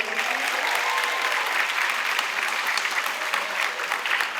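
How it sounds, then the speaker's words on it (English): A concert audience applauds an 8th grade jazz band on stage, loud, dense clapping that holds steady for several seconds with slight swells and a few sharper individual claps. "How about another round of applause for them?"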